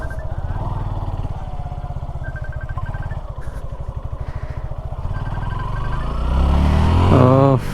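A Suzuki Gixxer SF motorcycle with fuel injection and ABS runs loud and close on a test ride, its engine holding a steady throttle before revving up sharply near the end.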